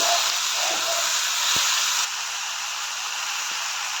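Tomatoes and onions sautéing in a pan for a Kerala-style theeyal, a steady soft sizzling hiss throughout with a couple of faint clicks.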